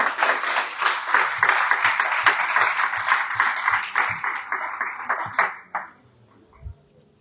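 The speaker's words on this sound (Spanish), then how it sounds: "Denle un fuerte aplauso al Señor, hermano." A congregation claps for the Lord during a church service: loud, rhythmic unison claps for several seconds before fading out, with a faint ringing tone at the end.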